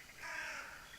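A single crow in a video game caws once, a harsh raspy call, faint and somewhat distant.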